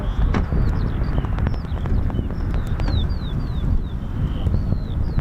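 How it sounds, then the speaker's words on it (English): Wind gusts across the RAF Coningsby airfield in a steady, loud roar that buffets the microphone, while faint bird chirps rise above it. "It's getting a little bit windy for you"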